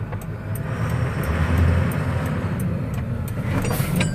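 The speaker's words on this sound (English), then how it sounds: "So we'll go ahead and we'll do our 50-foot brake check." A heavy truck idling and rolling away from a curb during a 50-foot brake check, a steady low engine rumble with faint periodic clicks from a turn signal overhead.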